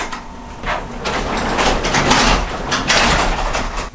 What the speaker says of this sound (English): I'm gonna close the garage door.